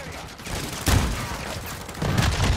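Video game gunfire, a dense rattle of shots in a steady fusillade, moderately loud, with a stronger burst near the start and another toward the end.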